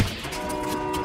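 Train ride in the game Warzone, a loud continuous rolling rumble with sustained tonal hum layered on top, steady for the whole short stretch.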